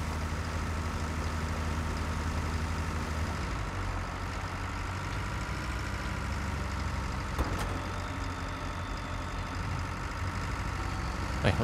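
A JCB tractor engine in the farming video game Pure Farming 2018 runs with a steady, low idling rumble that shifts tone partway through, alone with no talk.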